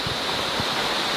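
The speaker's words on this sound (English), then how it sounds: "We got a waterfall." Bridal Veil Falls in the Black Hills of South Dakota gives a steady, full rush of falling water, loud and close for a brief moment.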